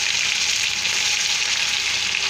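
Onions added to hot oil with curry leaves and green chillies, giving a loud, continuous, even sizzle and crackle of frying up close, with no voices.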